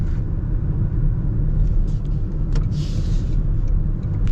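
A Toyota Crown Nightshade hybrid pulls hard in sport mode, heard from inside as a steady low road-and-powertrain rumble with a brief airy whoosh partway through, moderately loud and constant, no talking.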